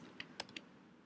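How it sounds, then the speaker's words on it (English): Computer keyboard keys pressed in a quiet room, three or four light, close clicks spaced irregularly over about a second. "I'm using the keys on my computer"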